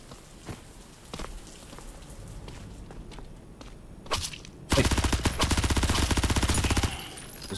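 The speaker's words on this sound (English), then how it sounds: "That is a good, healthy rate of fire right there." Rapid automatic gunfire from a gun in an indie FPS game: a loud, dense burst of evenly spaced shots for about two seconds near the end, preceded by scattered single clicks and quieter ambient game sound.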